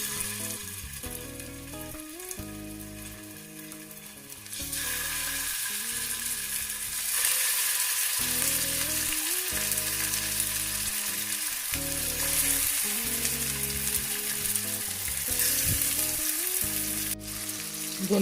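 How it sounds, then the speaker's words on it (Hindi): Chicken and mixed vegetable kebabs fry in a little oil on a greased pan, giving a steady, close sizzle and crackle that carries on without a break, with occasional soft scraping and a louder hiss building partway through. "दोनों साइड्स को अच्छी तरह से फ्राई कर लूँगी।"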